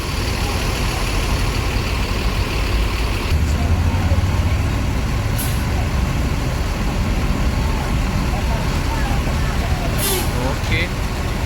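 A Rosalia Indah bus manoeuvring out in busy traffic at rush hour, with a steady diesel rumble and idling, sharp air-brake hisses and engine noise all around, and a voice talking throughout.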